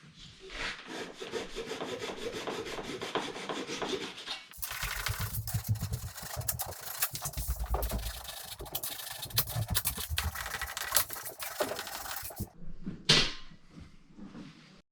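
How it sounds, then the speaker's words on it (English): Sustained, gritty finish sanding across a wooden table top, running in long continuous passes with a couple of brief pauses and a sharp scrape near the end. "From there, I did some finish sanding."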